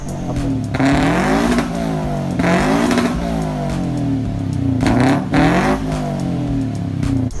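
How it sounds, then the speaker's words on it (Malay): A 2015 Toyota GT86 with its stock exhaust, which is not very loud, revs repeatedly near the car, rising and falling in about four strong surges over a steady idle. "Exhaust dia tak berapa kuat sangat"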